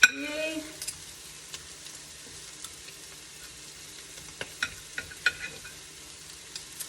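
Sausage frying gently over very low heat in a pan for an Italian submarine sandwich is stirred with a fork. A faint, soft sizzle is broken by sparse light clicks and scrapes, after a brief voice at the start.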